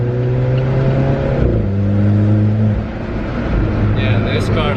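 A 2018 Alfa Romeo 4C sports car engine revs and drops in pitch with a throaty exhaust roar, while people talk over it.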